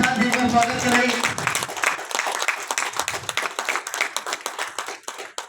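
A crowd claps to welcome guests at the grand opening of a motor pump shop in Patna, the applause close and lively, thinning into scattered claps toward the end, with voices talking underneath.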